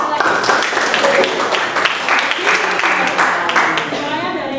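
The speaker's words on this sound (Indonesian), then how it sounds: "tepuk tangan sekali lagi" Students in an economics class applaud together, a dense, steady patter of many hands lasting several seconds with voices mixed in.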